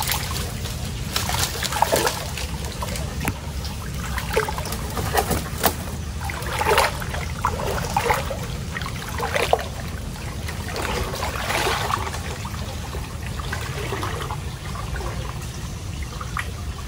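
Rain falling on soil and mud beside murky water, a steady pattering hiss with scattered louder drips throughout, fairly close and continuous, with no talking.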